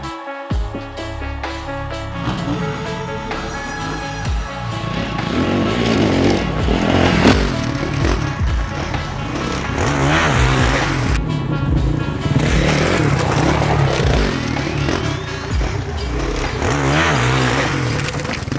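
A Honda 450 CRF enduro motorcycle engine revs loud and close, its pitch climbing and falling through repeated throttle blips and sustained high-rpm stretches.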